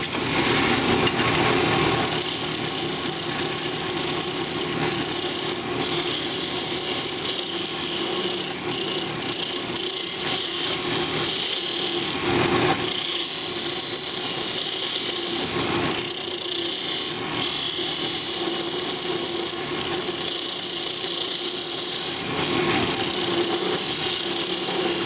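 A carver's mallet turns on a wood lathe while a parting tool cuts into it, giving a steady, continuous scraping rasp over the motor's hum for the whole stretch, with brief dips where the tool eases off.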